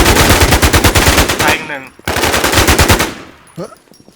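Rapid automatic gunfire in the online shooter Infestation, two long loud bursts of fast evenly spaced shots, close, separated by a brief pause, with a short voice at the end.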